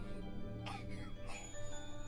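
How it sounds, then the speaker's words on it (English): A ghost coughs and sputters in the horror video game Corpse Party, two short raspy bursts over a constant low game drone, moderately close. "Sputter, cough."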